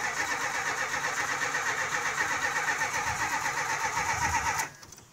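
A 1978 Chrysler Cordoba with a low battery, choke held on a hot summer day, cranks continuously with a fast rhythmic churning that stays loud and close until it cuts off abruptly near the end.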